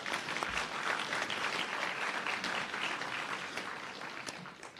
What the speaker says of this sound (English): let's give him another round of applause, everyone